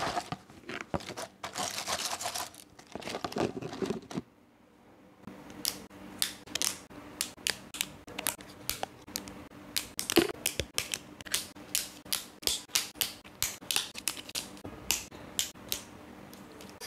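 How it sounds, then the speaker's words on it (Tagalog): Dried, shiny rice crackers are handled, first giving a rustling scrape, then a run of sharp, dry clicks and crackles as the brittle pieces knock together, close and fairly quiet. "Ito na yung ating rice cracker na dried na."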